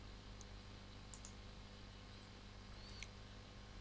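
A computer mouse gives a few faint, sparse clicks over a steady background hiss, with no one speaking.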